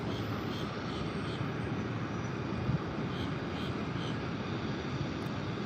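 A plane at Tampa International Airport gives off a steady engine roar at moderate distance, a continuous broadband rumble with no talk over it.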